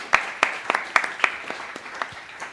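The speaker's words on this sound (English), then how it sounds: "Can we give a round of applause for Andrew real quick?" A few people clapping in a small room for Andrew, giving distinct, fairly close handclaps at a moderate, slightly uneven pace over a couple of seconds.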